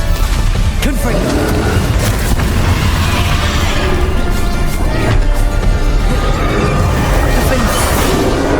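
Repeated fire spell blasts in Hogwarts Legacy, loud booming bursts with crackling impacts layered over continuous noisy battle sound, with someone talking in the background.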